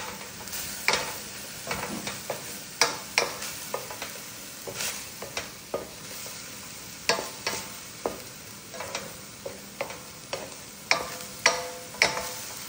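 Onion fries and sizzles in oil in a pan while a utensil stirs it, giving repeated scraping clacks in an irregular rhythm over a steady close crackle.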